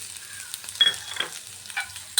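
Garlic cloves fry in a pan for a Telugu dondakaya ulli karam dish, a soft sizzle broken by a few short scraping stirs, close up and with no talking.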